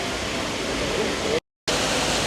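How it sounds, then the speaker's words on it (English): Water splashing at a hotel fountain, a steady loud rushing wash with a brief cut of silence midway, without talk. "Just lovely having the sounds of the water here as well."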